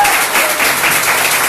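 A short burst of dense applause from a church congregation, steady clapping filling the whole moment.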